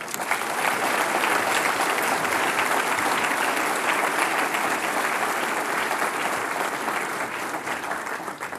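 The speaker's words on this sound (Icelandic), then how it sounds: "Þá er lokið brautskráningu frá yfirþjálfunarfræði deild og þið megið klappa." Sustained, even applause from a large audience at a university graduation ceremony in Akureyri, a thick continuous patter of many hands holding steady for several seconds before easing slightly, with no talk over it.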